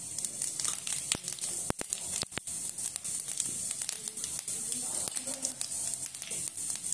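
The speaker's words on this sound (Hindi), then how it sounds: "तेल हमारा गर्म हो गया है। हम इसके अंदर थोड़ी सी डाल रहे हैं हींग। साथ ही हम इसके अंदर डालेंगे थोड़ा जीरा।" Asafoetida and cumin hit hot oil for a tomato and red chilli chutney, giving a steady close hiss and crackle with sharp sputtering pops scattered throughout, no voices over it.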